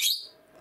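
A pet budgerigar gives a single short, bright chirp up close, fading quickly into a quiet room.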